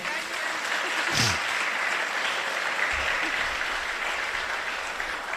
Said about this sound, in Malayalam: അപ്പം നമുക്ക് സ്മിത ടീച്ചറിന്റെ ഒരു വലിയ കയ്യടി കൊടുക്കാം അല്ലേ?